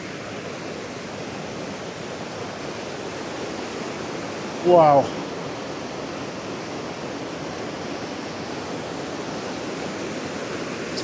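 Steady broadband rush of a waterfall beside a desert section of the Pacific Crest Trail, constant and fairly loud throughout, with a brief spoken exclamation partway through.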